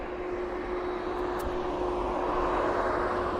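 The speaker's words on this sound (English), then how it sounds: "It's a lot of aircraft coming in." Steady aircraft engine roar from planes coming in at East Midlands Airport on a busy evening, a continuous broadband drone with a constant hum throughout, fairly distant and unbroken, with no voices.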